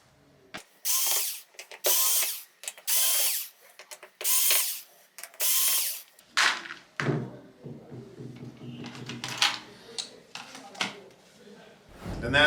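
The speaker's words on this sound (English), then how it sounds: "Now we just take the screws out." Screws come out of a Samsung UN46F7100AF TV in a series of short, loud power-driver whirring bursts separated by pauses, followed by softer clicks and handling noises.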